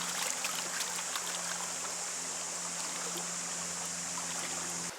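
Creek water flows and trickles steadily in a Minnesota stream during gold panning, a soft continuous babble with faint splashes and a low hum underneath.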